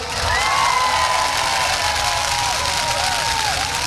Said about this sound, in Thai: แล้วก็ขอเสียงปรบมือดังๆให้กับพี่น้องชาวอยุธยาด้วยครับ